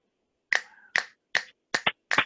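Five crisp finger snaps, close and fairly quiet, spaced unevenly with a short double snap near the end, alone with no talk.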